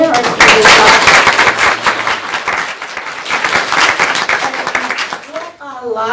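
Audience at a county board of education meeting applauds parents, with dense sustained clapping for about five seconds before it stops and a voice begins speaking.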